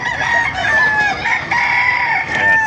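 A rooster crows loudly and steadily from close by, its drawn-out call filling the whole moment without pause, at a chicken market in Baliuag, Bulacan.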